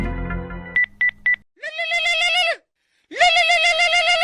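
A phone ringing: a short burst of dial-like tones, then three quick beeps, followed by two long, loud, warbling electronic ringtone phrases separated by a brief silence, with no talk.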